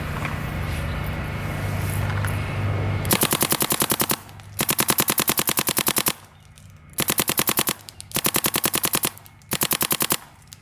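GEO 4 paintball marker firing in rapid full-auto strings, a loud, close, mechanical chatter broken into about five bursts separated by short pauses, with no voices.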